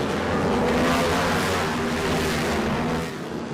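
Twins Cup racing motorcycles at Ridge Motorsports Park launch off the start, a loud, sustained engine roar from the pack accelerating together, steady for a few seconds before easing slightly at the end.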